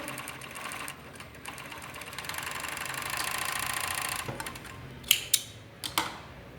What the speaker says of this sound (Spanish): a pegarlo en una fileteadora, pues que es la costura más delgada que podemos hacer en esta clase de ropa interior